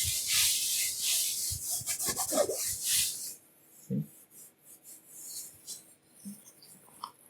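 YKK zipper on a Tortuga Setout laptop backpack being opened and closed, heard as a close, loud run of raspy zipping strokes for about three seconds, followed by quieter scattered fabric rubs and small clicks.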